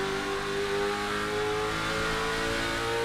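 Race car engine in an iRacing NASCAR Late Model Stock race at Thompson Speedway, a steady loud revving drone with a sustained whine, multiple cars running close together, no talk.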